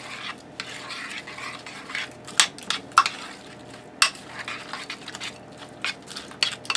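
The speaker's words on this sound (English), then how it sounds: "Give that a stir" A spoon is stirring a tater tot casserole thick with cheddar cheese and bacon, giving repeated scraping, clinking strokes against the pot with a faint sizzle underneath, close and fairly loud.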